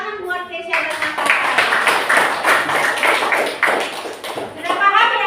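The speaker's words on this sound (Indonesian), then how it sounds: "Tepuk tangan buat Tesya dan Nathan." A classroom of students claps for classmates Tesya and Nathan, a dense, loud burst of applause that starts abruptly, holds steady for several seconds, then thins out toward the end.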